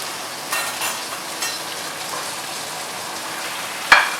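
Butter sizzles in a pan with a rib eye steak, a soft, steady frying hiss with a few brief swells and one sharp click near the end.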